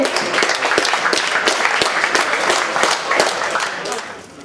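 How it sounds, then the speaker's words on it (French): Crowd applause at a 2010 festive gathering in Blagnac, France, dense steady clapping filling the room at moderate level and tapering off at the end, with voices mixed in. "On peut les applaudir, ils ont bien travaillé."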